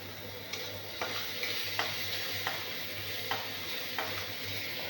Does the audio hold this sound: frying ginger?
yes